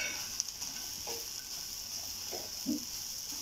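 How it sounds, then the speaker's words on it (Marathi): Onion dry-roasting in a pan with salt and no oil gives a soft, steady sizzle with a few faint stirring scrapes, close by and alone. "कांदा भाजताना पहिलं तेल टाकायचं नाही"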